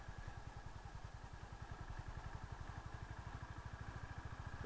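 A Honda CB350 motorcycle engine turning slowly at low speed in second gear, a steady close rapid thump of firing pulses with light mechanical clatter running throughout.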